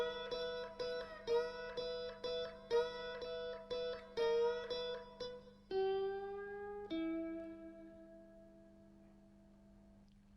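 A slide guitar phrase played with quick downstrokes rings out as a run of bright, plucked notes that slide between pitches, ending on long sustained tones that fade away quietly.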